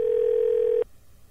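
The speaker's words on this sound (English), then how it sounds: "I'm dialing the phone." A steady telephone dial tone hums loudly and close for under a second while a phone is being dialed, then cuts off abruptly into quiet.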